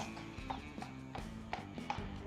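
Horse hooves trotting on firm ground beside a handler during a vet lameness check before purchase of a jumping horse, giving a steady run of clip-clop strikes over a low background hum, moderately close.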